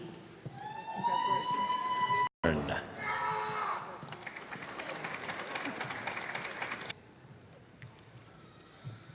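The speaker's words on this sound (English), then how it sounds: "Please join me in one more round of applause." Applause from a commencement audience for graduates at a university ceremony, a broad clapping wash that follows a voice at the start and thins to a quieter, sparser patter by the end.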